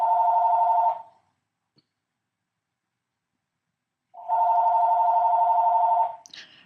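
A house telephone rings in two long electronic bursts, one at the start and another after a few seconds of silence, loud and close with nothing else heard.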